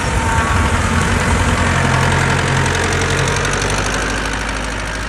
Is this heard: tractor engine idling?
yes